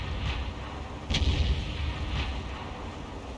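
A tank taking a shell hit in a Spähpanzer Ru 251 game match, a heavy dull impact boom near the middle over a constant low engine rumble, with a couple of lighter distant thumps.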